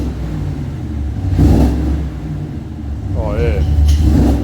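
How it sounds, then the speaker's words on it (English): Chevrolet Silverado or Ram truck fitted with a Walkingshaw full exhaust system, its engine idling with a deep rumble and then revving briefly twice, the second rev rising in pitch, while people talk nearby. "Give her a little rev."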